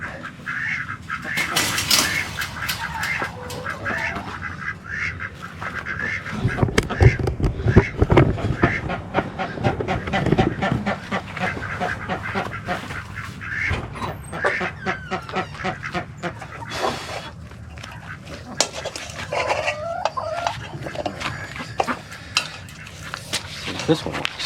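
Chickens in a ranch coop being readied for winter give honking, clucking calls mixed with metallic clanking and rustling handling noises, along with some nearby talk.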